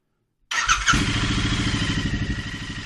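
A Royal Enfield Interceptor 650 motorcycle engine fires up after half a second of silence, catching with a brief rev, then settling into a loud, steady, close-up idle with an even pulsing beat.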